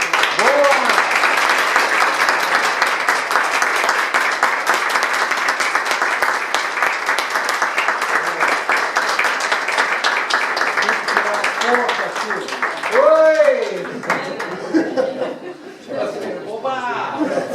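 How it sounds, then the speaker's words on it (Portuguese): An audience at a book talk in Galicia gives the guest author a long round of loud, dense clapping, which thins out toward the end as laughter, chatter and voices rise over it. "Um aplauso para o nosso candidato"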